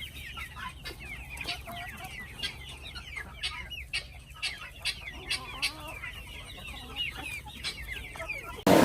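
A small flock of backyard chickens clucks and chatters continuously at close range, with repeated short calls overlapping, under a faint steady background hum and a sharp thump at the very end.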